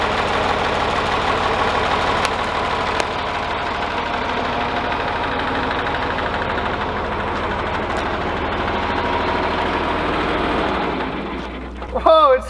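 A tractor engine idles with a steady, loud chugging rumble for a long stretch, then cuts out near the end with some clattering.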